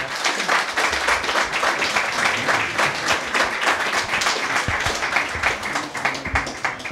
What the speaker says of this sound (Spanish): os pido para él un fuerte aplauso